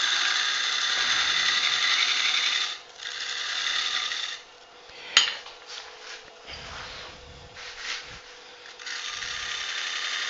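Wood lathe turning a maple burl vase with a 16 mm fingernail-ground bowl gouge, a steady close scraping hiss that drops out briefly around the three- and nine-second marks, with one sharp knock midway.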